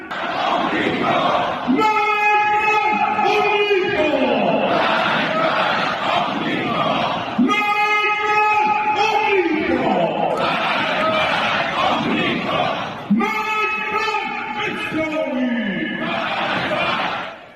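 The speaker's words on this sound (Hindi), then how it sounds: "उनके समर्थन की भीड़ ये आपके सामने है" A large street crowd of supporters of Khamenei in Iran chants loud slogans in rhythmic, repeated bursts, many voices shouting together in unison with brief swells and dips between phrases.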